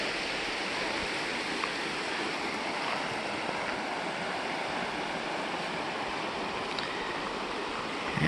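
A creek runs beside a Wyoming campsite, its flowing water making a steady, even rush of broadband noise with no pauses for the whole stretch and no voices over it.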